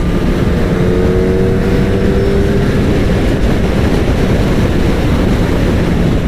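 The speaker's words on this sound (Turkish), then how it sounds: "Rüzgar da şiddetini arttırdı buralarda." Loud, constant rushing wind noise buffeting the microphone while riding a Kawasaki ZX-10R motorcycle at speed on a highway, with a dull road roar underneath and no voices.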